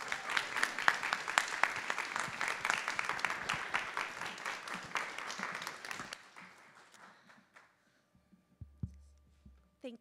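An audience at a graduate school lecture claps in welcome, a steady crowd applause filling the room for about six seconds before tapering to a few scattered claps and near silence.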